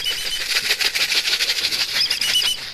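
Racing pigeons in a derby race in San Fernando, La Union flap their wings as they come down to land, a dense, rapid fluttering of many wings that stays close and steady throughout with no talk.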